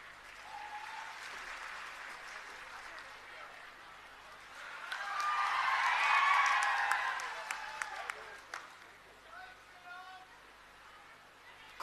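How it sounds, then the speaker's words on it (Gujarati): An audience at an Aam Aadmi Party gathering in Gujarat claps to welcome Kejriwal, the applause swelling loudly in the middle and then fading, with a voice speaking over it at times. "આપણે તાળીઓ પાડીશું"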